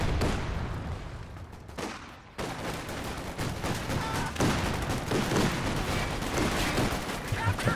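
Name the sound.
machine gun fire exchange in a video game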